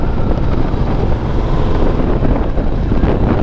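Strong wind roars and buffets against the microphone on a mountain road in Portugal, a loud, constant low rumble with no talking.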